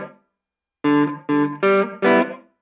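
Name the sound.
electric guitar played through travel amp preset 2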